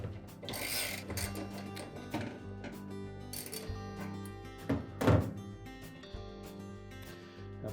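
A socket and ratchet working a bolt on a Whirlpool washer agitator, giving close mechanical clicks and clunks with a couple of heavier thunks near the end.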